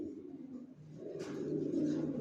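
Racer pigeon chicks coo in soft, low, repeated murmurs close by, rising slightly louder toward the end with a brief rustle partway through.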